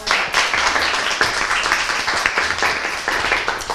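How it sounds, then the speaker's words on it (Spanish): Two teams in a children's TV show studio get a round of applause, a lively, close patter of many hands clapping with uneven bursts throughout. "¡Aplauso para ustedes!"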